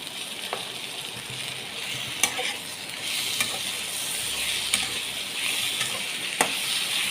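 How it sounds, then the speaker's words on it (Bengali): Sliced tomatoes go into softened onions frying in a pan, followed by a steady sizzle with scattered sharp clinks of a spatula stirring against the metal, fairly close and without any talking. "এই অবস্থায় এর মধ্যে স্লাইস স্লাইস করে কাটা টমেটোগুলো দিয়ে দেব"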